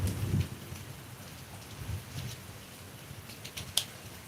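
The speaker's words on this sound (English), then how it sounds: "Grant, yeah, it's raining here." Rain falls steadily on outdoor surfaces with a soft, continuous patter, with a few low rumbles and a sharp drip or tap near the end, fairly quiet and with no voices.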